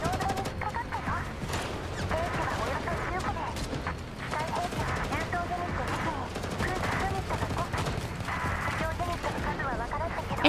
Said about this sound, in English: With the first gunshot fired from the hill, the battle has officially begun.